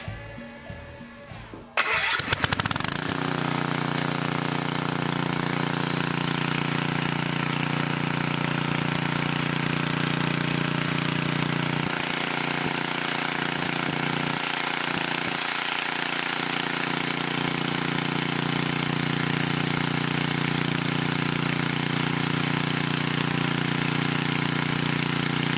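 A generator retrofitted with electric start briefly cranks, catches and settles into a loud, steady, even idle that runs on unbroken, close by.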